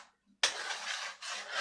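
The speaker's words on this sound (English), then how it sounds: "Give it a little stir." A spoon stirring a pot of chili on the stove, set to low heat, gives a continuous scraping, rubbing sound that starts abruptly after a short quiet moment, with a brief pause before resuming.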